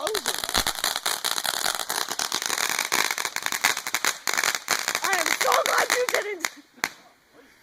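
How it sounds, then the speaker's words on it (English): Rapid crackling pops and bangs of backyard fireworks going off in a dense burst, loud and close, with excited voices talking over and between the explosions before the noise cuts out near the end. "It might pop. It might do some explosions."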